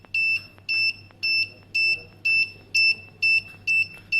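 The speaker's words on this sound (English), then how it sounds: "the closer we get, the harder the buzzer sound will become" An Arduino proximity sensor buzzer beeps in a steady rhythm, eight or nine short, sharp pulses at regular intervals, close and fairly loud.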